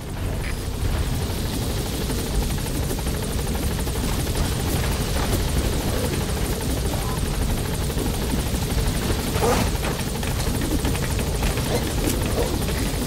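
A military helicopter in the video game Metal Gear Solid V touches down with its rotor thudding and engine whining in a loud, constant roar that stays close throughout, with no voices.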